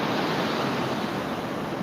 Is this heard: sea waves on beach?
yes